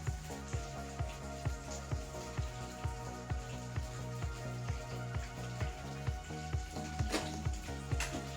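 Soya chunks fry in a pan with a steady oily sizzle, while regular scraping strokes of a spatula stirring and turning them tap out an even rhythm throughout.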